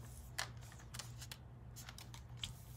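Designer paper is cut for patchwork greeting cards, giving soft, papery slicing and shuffling strokes in a loose series over a steady low background hum, close and faint.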